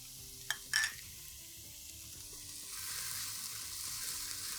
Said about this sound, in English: we're going to continue to saute for another minute, just so we can get the garlic flavors going